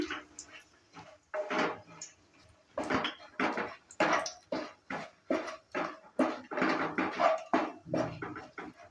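Dry stirring in a pan with two dried red chillies, a bay leaf and half a spoon of whole cumin seeds, a close series of short clacking scrapes and knocks of a spoon against the metal, repeated steadily at a fast rhythm.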